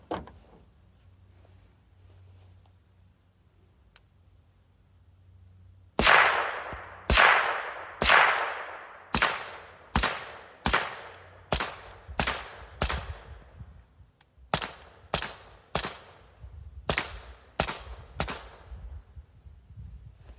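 Suppressed FN 502 Tactical pistol shots fired one after another in a steady string of about fifteen sharp, snappy cracks, each with a short tail, close and loud after a quiet start.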